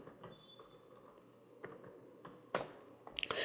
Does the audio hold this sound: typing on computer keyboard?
yes